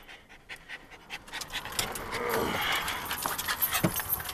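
A dog on a front-mounted no-pull harness pants rapidly near a car, steady short breaths close by alongside faint jangling and shuffling.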